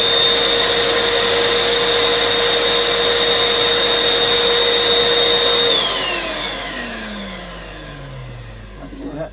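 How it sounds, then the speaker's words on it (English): A record cleaning machine's vacuum runs with a loud, steady whine and drone close by, then powers down, the pitch sliding lower as the motor winds to a stop. "we'll put the LP back on and suck any any dust off of it"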